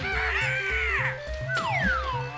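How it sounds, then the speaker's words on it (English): Cartoonish birds cawing in the Banjo-Kazooie video game level Click Clock Wood: repeated squawks and swooping calls over looping game music, loud and close. "These are the annoying birds."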